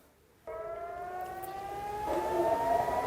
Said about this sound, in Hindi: सायरन ही सायरन आपको हर जगह सुनाई देंगे।